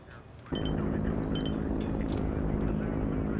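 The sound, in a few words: transport plane at an air base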